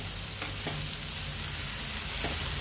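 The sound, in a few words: onions sautéing in a pan for tomato chutney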